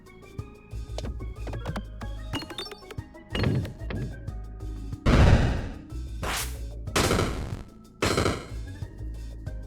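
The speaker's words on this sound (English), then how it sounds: "Alright, bunch of explosions just occurred." Explosions in the video game Peglin arrive as a series of punchy synthetic blasts and crunchy impacts, some heavy and booming, others sharp and crackling, over plinking game tones with pauses between bursts.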